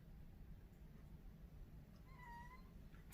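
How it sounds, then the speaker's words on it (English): A single short, faint meow rises near the end over a steady low background hum. "That's my cat. He's whiny."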